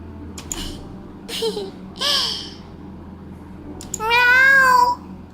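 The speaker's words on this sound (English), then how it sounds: "It's a black cat." A black cat meows in the video game LOVE³ -Love Cube-: three short, close mews come in quick succession, then a longer, drawn-out wavering meow follows after a pause, over a quiet background.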